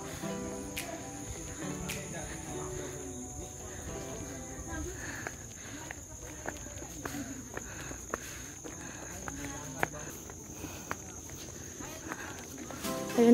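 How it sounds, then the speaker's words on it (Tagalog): Crickets trill steadily along a farm trail at Esmeris Farm in Liliw, Laguna, a continuous high buzz alongside crunching footsteps and some quiet voices. "sa inipan ng mga kuliglig."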